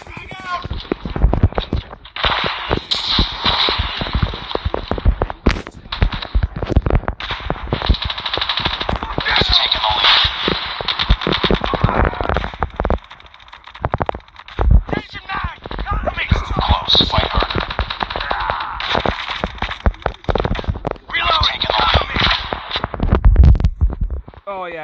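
Suppressed MP5 gunfire in a first-person shooter video game, rapid muffled bursts repeating throughout alongside in-game footsteps and clatter, with someone talking over the action.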